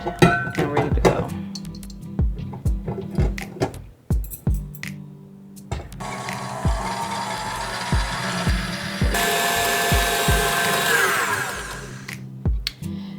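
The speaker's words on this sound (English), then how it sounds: "we're gonna whisk it until it's white and fluffy" Mixture for homemade Christmas treats whisked with an electric mixer, a steady whirring drone with rhythmic thumps and knocks against the bowl, growing louder and harsher midway.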